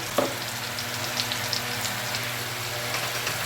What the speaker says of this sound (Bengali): এদিকে পেঁয়াজটা কিন্তু আমাদের সুন্দর করে ভাজা হয়ে গেছে।